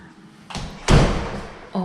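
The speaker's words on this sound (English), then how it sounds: "And it has the doors, you can close it." Laundry room doors in a condo are swung shut, giving a soft thump and then a louder, sharper bang, with a brief bit of sound after.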